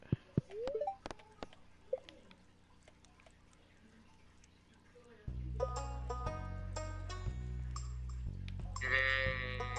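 Stardew Valley game audio: brief bleats and clicks of a sheep being bought, then game music and menu chimes take over, fairly faint overall.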